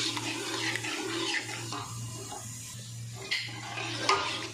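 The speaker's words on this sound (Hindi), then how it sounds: "मैदा डालने के बाद जो है चम्मच को लगातार हिलाते रहना है क्योंकि ये नीचे लग ना जाए" Spoon stirring flour into water in a pot for beef nihari, soft continuous swishing and occasional scrapes against the pot, close up, over a low steady hum, with no voices.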